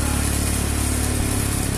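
A carbureted Honda Beat scooter fitted with a Vario 110 pulley climbs a hill, its engine giving a loud, steady droning hum with a constant low rumble that holds unchanged throughout.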